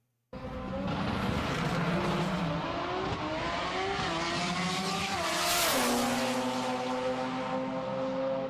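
A built 4G63-powered car accelerates hard with torque steer, its engine revving loudly and steadily through rising gear pulls with a brief tire-squeal surge near the end, heard close and alone.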